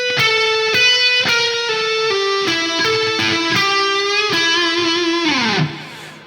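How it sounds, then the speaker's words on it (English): Distorted electric guitar playing a blues lick, a run of picked notes stepping downward with a sliding finish, loud and close with no talking. "And then we get this blues lick."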